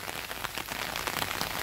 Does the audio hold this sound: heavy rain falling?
yes